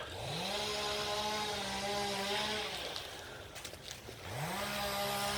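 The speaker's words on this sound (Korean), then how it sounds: "이거 저기 뭐야 나무 절단하는 기계" A chainsaw roars up to speed and holds a steady high whine, drops off briefly, then revs up again, loud and close.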